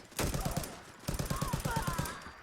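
Custom HK USP pistol fired in Fallout 4, a quick burst of several sharp shots followed by a second longer string of rapid, evenly spaced reports, loud and close with no talk over it.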